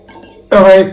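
A glass tumbler is handled over a pot on a gas stove, giving a sharp bright clink after a quiet moment, close and loud, with a voice speaking around it.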